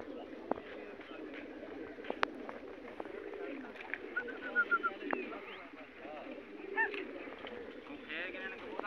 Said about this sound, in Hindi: ਇਹ ਦੂਜੇ ਖੋਖੇ ਦੇ ਕਬੂਤਰ ਨੇ